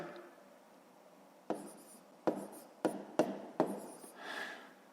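Numbers handwritten during a fifth-grade maths lesson: five or six quick, scratchy strokes in short bursts, close and fairly quiet, with no talking over them.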